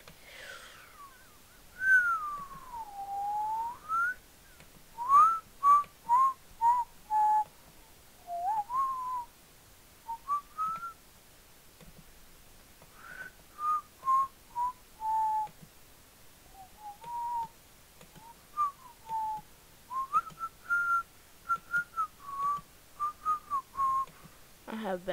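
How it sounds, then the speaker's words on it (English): A person whistles a wandering, uneven melody while playing Minecraft, thin pitched notes in short phrases with pauses, near and fairly quiet, over faint background. "I have bad whistling."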